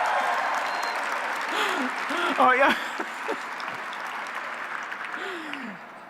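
Audience applause at an award ceremony honoring a business executive, a brief burst of clapping and crowd noise rising under a woman's speech, with audible laughter and talk layered on top.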